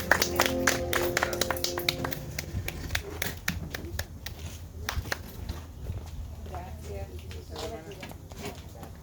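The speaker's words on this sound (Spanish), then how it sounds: "¿Por qué no le damos un fuerte aplauso al Señor?" A church congregation applauds the Lord, sharp claps scattered through the stretch beneath a speaker's voice.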